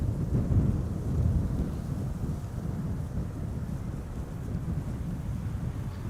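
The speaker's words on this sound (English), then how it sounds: "Wind's actually picking up a little bit now, on occasion." Wind gusting outdoors at Amsterdam Schiphol Airport, a low rumbling buffet against the microphone, stronger at first and then settling into a steady, moderate roar.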